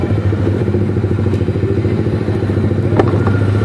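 Suzuki GSX R150 motorcycle engine while riding, a loud, close, steady low-pitched drone with a fast rhythmic pulse and some clatter and wind thumps, heard without talk.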